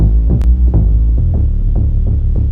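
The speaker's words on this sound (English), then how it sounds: "So maybe I'll go with an 808." Stock Logic Pro X 808 bass playing a loud, sustained low boom that pulses in a steady repeating rhythm of about five hits over a couple of seconds, with a brief bright click near the start.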